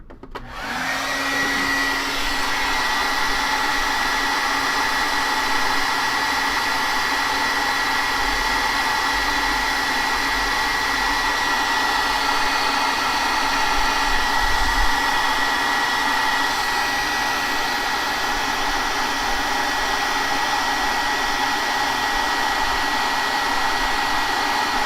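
A hair dryer blows steadily on a small acrylic still-life painting of an orange, a loud, unbroken whoosh that runs the whole time after a quick start, with no talking.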